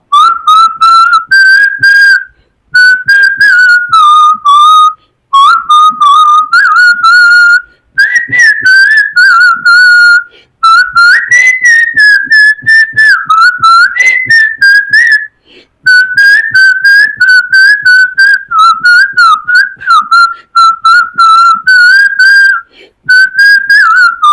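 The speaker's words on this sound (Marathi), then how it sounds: "मी शिट्टीतून गाणं म्हणून दाखवणार" A person whistles a melodic song tune on their own, in clear sustained phrases separated by short breath pauses, loud and close, with no talking.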